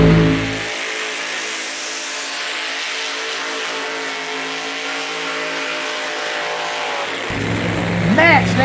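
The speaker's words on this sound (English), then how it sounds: "Max Stambaugh in the 8 mile with a burnout." A Generation X drag car does a burnout at the water box during Funny Car Nationals at Keystone Raceway Park. A loud, sustained engine roar and tire spin continue for several seconds, then end in a sharp rising rev.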